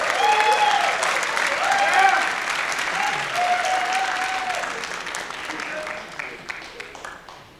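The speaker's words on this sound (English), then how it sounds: "a big round of applause to our medical professionals" Sustained audience applause at a high school safe-driving assembly honoring medical professionals, steady and full for several seconds with a few voices mixed in, then gradually thinning out toward the end.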